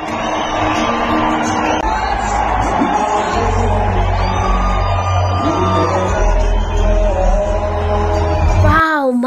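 Stadium crowd of fans yelling, whooping and cheering for a performer during his songs, a loud dense roar with shouted voices and music running throughout before a sudden cutoff near the end.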